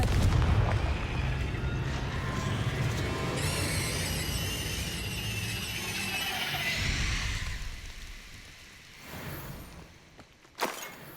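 A Confringo blasting spell goes off in the Hogwarts Legacy game, producing a loud, rumbling explosive burst with sustained crackling debris and a fiery roar that gradually fades, followed by a couple of sharper pops near the end.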